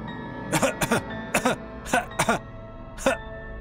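Several harsh coughs and choking throat-clears from a man with a fish bone stuck in his throat, in quick irregular bursts, close and loud, with strained breathing in between.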